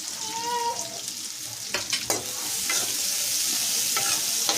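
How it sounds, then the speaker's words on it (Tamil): Onions and green chillies sauté in a pan for a chapati kurma, with a constant close-up sizzle and several scraping stirs of a utensil through the frying mixture. "வெங்காயம் கொஞ்சம் நல்லா வதங்கட்டும்."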